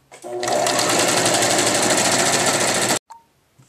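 A sewing machine stitches the side seam of a gathered skirt, a loud, fast, even whirring run of about two and a half seconds that stops abruptly, followed by a faint click.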